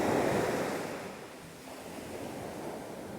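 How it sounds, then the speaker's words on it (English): Ocean surf rolls onto Nang Thong Beach, a short sandy stretch in Khao Lak, Thailand, as a steady broadband wash of breaking waves, loudest at the start and then easing into a continuous hiss, with some wind noise on the microphone and no talk. "So this beach is just a little 2-kilometer stretch of sand."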